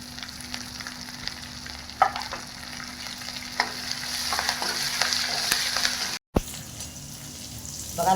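Curry leaves, garlic and green chili frying and stirred in hot oil for a Maharashtrian tadka, a steady close sizzle with occasional stirring clatter and a brief cut near the end.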